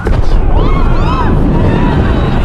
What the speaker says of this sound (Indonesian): tiba-tiba ada sebuah ledakan besar terjadi